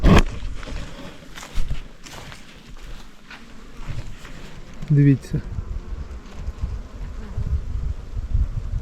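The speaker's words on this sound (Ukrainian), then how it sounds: "В усіх вулочках повно бджоли" Dense, steady droning buzz of many honey bees in hives close by, with footsteps shuffling and a person speaking briefly over it.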